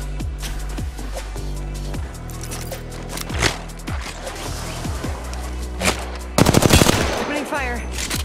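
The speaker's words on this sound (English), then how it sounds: "Opening fire." Automatic weapon fire in the battle royale game Apex Legends, with repeated sharp bursts through the clip, a denser rapid volley near the end, and game music and effects underneath.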